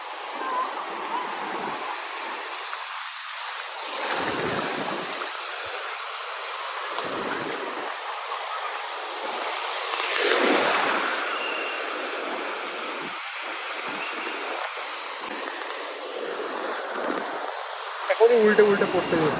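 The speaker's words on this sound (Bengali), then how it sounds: "পৌঁছে গেলাম আমরা পুরীর সমুদ্র সৈকতে" Sea waves breaking on Puri beach on the Bay of Bengal, a steady broadband wash of surf with a swelling surge midway, mixed with wind noise and faint crowd voices in the background.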